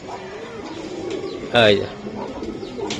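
A Giribaz racing pigeon gives a short burst of cooing partway through, close and fairly loud, set among men's conversation that carries on before and after the call.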